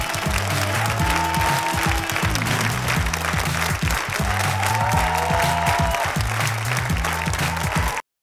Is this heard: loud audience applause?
yes